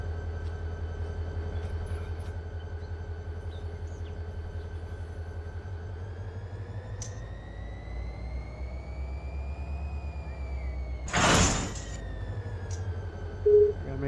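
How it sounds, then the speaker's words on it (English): A locomotive on an ATSF local freight service in the Run 8 train simulator game rumbles with a steady low engine drone that shifts pitch slowly, with a short burst of air hiss midway. "Locomotive should go through there."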